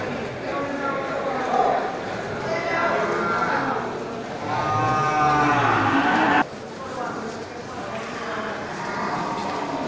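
Male water buffalo at a livestock market, lowing with long, deep moans over steady crowd murmur, near and loud, with people talking throughout.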